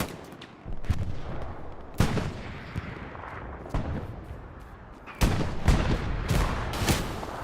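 Rocket and weapon fire in the World War II shooter Hell Let Loose, Utah Beach battle: a series of heavy booming blasts at irregular intervals over constant rumbling battlefield noise, with a cluster of sharp reports near the end.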